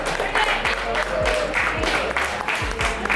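An audience at a fancy hot dog eating challenge in Ohio claps in scattered, uneven bursts for a contestant, producing moderately loud, steady applause that carries on for several seconds.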